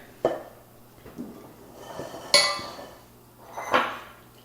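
Streusel caramel apple bread batter scraped into metal loaf pans, heard as a few distinct clinks and knocks of a utensil against the pans with soft scraping between them, close by and unhurried.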